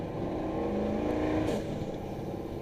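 A boosted truck running at light throttle gives a steady, loud engine drone that shifts as the driver lifts off, with a brief fluttering whoosh of turbo compressor surge partway through.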